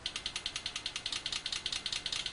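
A simulated car engine idle is built from a fuel injector pulse train, giving a faint, mechanical, ratchet-like ticking: even, rapid pulses at roughly nine per second, steady and alone, with no voices.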